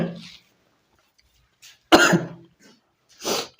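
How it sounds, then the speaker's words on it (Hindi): A man giving a lesson coughs twice, both up close and sharp, each one short and separated by silence, with a faint throat noise at the start. "सॉरी, खांसी हो रखी है।"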